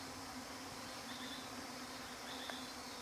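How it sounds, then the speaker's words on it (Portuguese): Bees buzz faintly in the countryside among fallen trees, mossy stones and ferns, a soft steady hum with a few brief louder passes of single insects nearby. "o barulho das abelhas"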